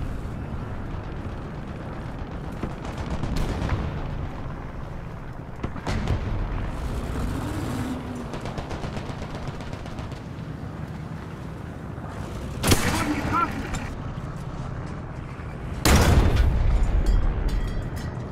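Tank cannon fire in War Thunder, a rumbling armored engine drone broken by a couple of sharp, loud booming shots near the end, with no talk.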